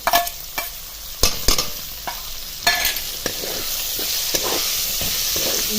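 Broad hyacinth beans are stirred with chilli masala in a pan, a spoon scraping in irregular strokes over a steady close frying sizzle, with no talking.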